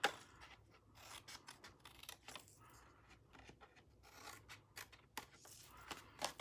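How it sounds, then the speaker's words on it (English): Scissors snipping thin slivers off the edges of a small paper treat box, a series of close, light crisp cuts and paper rustles in an irregular rhythm, quiet and without talking. "cut off a little sliver on each side"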